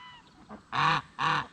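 A farm goose raised among ducks gives two loud, close honks in quick succession, each lasting about a quarter second, after a softer lead-in call.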